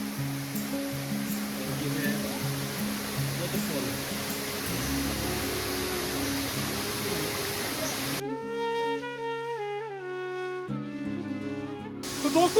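Rushing water at a hidden waterfall in Bhalessa, Jammu, a steady broadband roar filling the scene, then background music takes over partway through.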